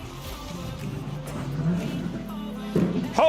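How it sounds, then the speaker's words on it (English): A loud car engine revs outside, heard muffled from indoors as a low, rising growl that swells over a few seconds, with a sharper surge near the end. "loud-ass car is just revving his frickin' engine outside."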